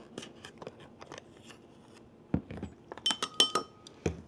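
A small spoon clinks against a bowl while cinnamon is stirred in, a run of light, sharp metallic taps, sparse and soft at first, then quicker and brighter toward the end, heard close with no talk.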